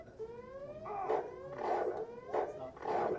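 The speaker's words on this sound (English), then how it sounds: "the stupid dog is biting me" A dog in the PC game Deus Ex growls and snarls in repeated bursts, moderately loud, alongside rising tonal game sound effects during a speedrun.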